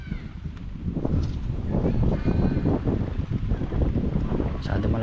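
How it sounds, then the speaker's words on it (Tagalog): Strong wind blows hard and continuously, a loud low buffeting rumble with gusts striking the microphone throughout. "Masyado malalakas ang hangin na dumadaan ngayon."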